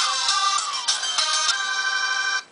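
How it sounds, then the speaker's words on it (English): A phone ringtone plays loudly and close, a bright synthesized electronic melody with repeated rhythmic notes that cuts off abruptly near the end. "You think your ringtone's cool? Check out mine."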